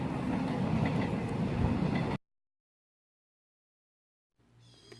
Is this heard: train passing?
yes